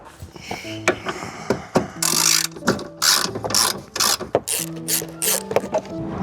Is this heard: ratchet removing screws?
yes